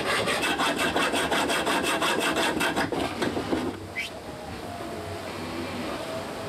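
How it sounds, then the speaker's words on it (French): A metal nut is cut in two with a hand saw aboard a racing sailboat, giving steady rapid rasping strokes that then stop, followed by a short scraping squeak and quieter background noise. "Couper l'écrou en 2."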